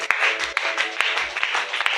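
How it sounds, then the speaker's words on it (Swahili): Church congregation at a Wednesday deliverance service clapping for Jesus, a brief burst of scattered, uneven handclaps from a room of people, moderately loud with no voices over it. "Pigia Yesu makofi."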